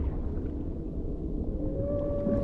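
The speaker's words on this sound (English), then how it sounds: "There's a whale." Low, drawn-out whale call in a survival crafting game, a rising tonal moan that carries steadily over a dense underwater rumble for the length of the clip.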